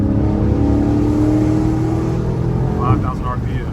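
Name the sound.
car engine revving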